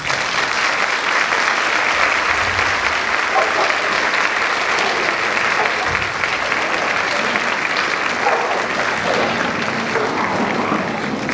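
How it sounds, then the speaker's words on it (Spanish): An audience at an educating-cities congress in San Francisco gives a speaker sustained, loud applause lasting over ten seconds, with dense clapping and faint crowd murmur. "Fuerte nuevamente el aplauso para Axel."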